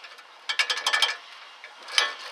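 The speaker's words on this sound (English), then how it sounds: "we'll go ahead and put our socket on, and it is the 13/16 socket" A hand ratchet turns a 13/16 socket on a ball joint bolt of a Ford Expedition, Mountaineer or Explorer front suspension, giving a quick run of close, crisp clicks and then one more short burst.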